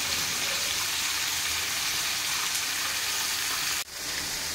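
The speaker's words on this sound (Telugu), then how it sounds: "క్యాప్సికమ్ వేసుకొని మంచిగా జర నూనెలో మగ్గనియాలి." Capsicum, ginger and garlic fry in hot oil with a steady, close sizzle that holds level throughout, dipping sharply for a moment near the end before resuming.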